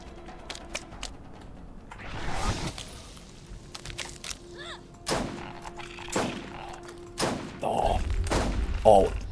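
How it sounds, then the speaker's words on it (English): Gunshots in the video game Borderlands: several sharp, loud shots spaced a second or two apart, mixed with thuds, impacts and game effects, close up, with someone talking intermittently between them. "Oh, 2 shots didn't even do it that time."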